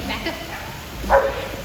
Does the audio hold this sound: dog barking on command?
yes